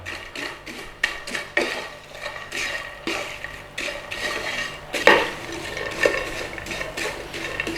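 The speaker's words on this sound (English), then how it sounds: "give these a little bit of toasting in there with that olive oil" Something toasts in olive oil in a pan while a utensil stirs it, making repeated close clinks, scrapes and knocks against the pan over a soft background sizzle.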